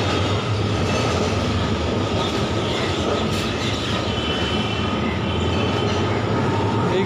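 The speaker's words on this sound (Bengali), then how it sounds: "ট্রাম যাচ্ছে দেখো।" A tram rolls past Hedua park in Kolkata, a loud, steady rumble of wheels on rails with faint clicking and a light metallic squeal, close by throughout.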